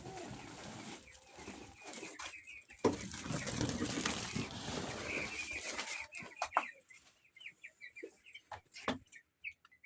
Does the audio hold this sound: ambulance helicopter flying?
no